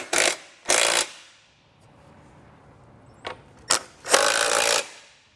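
A ratcheting 15 mm wrench snugs down hitch bracket bolts during a hidden rack receiver install on a 2019 Tesla, heard as several short, sharp ratchet bursts with quiet gaps between, close by and without talking.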